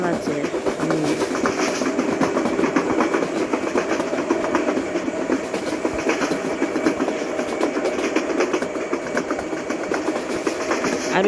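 Subarna Express rolling along in Train Simulator Bangladesh, a continuous loud rumble with rhythmic clickety-clack of wheels over rail joints, steady throughout, with talk over it.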